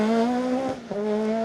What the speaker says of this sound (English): Anthony Elks, Alex Lewis in the Corsa Super 1600